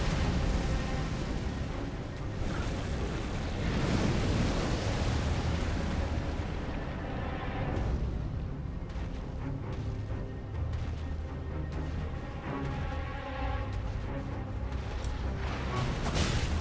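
A dragon breathes fire in Elden Ring, a loud, sustained roaring rush with deep rumbling and crackle across the whole clip, steady and dense with no pauses.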